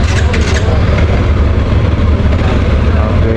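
A TVS Apache RTX 300 motorcycle engine runs close and loud at idle, a steady low rumbling throb that holds constant without revving.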